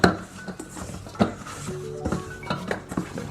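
Cookie batter with baking powder is stirred in a bowl, giving irregular scraping and knocking of a utensil against the bowl, with several louder clacks and a faint voice in the background.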